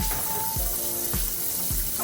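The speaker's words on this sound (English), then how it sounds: "Notice I'm still letting the water run." Tap water runs steadily into a sink during handwashing, a continuous close splashing stream with faint clunks of hands and towels moving nearby.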